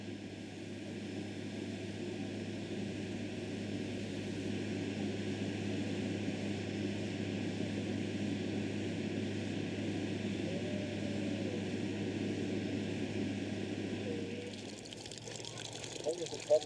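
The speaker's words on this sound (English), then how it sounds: "The Qantas Airlink flight from Sydney arrives in Broome with 8 alligators, sent by Malcolm's mate John Weigel" A Qantas Airlink propeller plane arriving in Broome from Sydney, its steady engine drone holding loud and close throughout before easing near the end.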